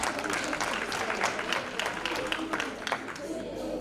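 Audience applause at a Women's Month dialogue event, a steady wash of many hands clapping close by at moderate level, continuous through the whole stretch with no voices standing out.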